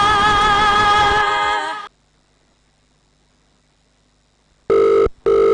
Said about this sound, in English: Olumide, why are you answering the phone?